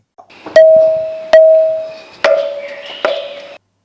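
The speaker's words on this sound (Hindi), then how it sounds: "अब यहाँ एक मंदिर की घंटी की आवाज है" Four ringing, temple-bell-like strikes on a musical stone pillar, each a sharp hit followed by a sustained metallic tone that decays, spaced roughly a second apart, close and clear.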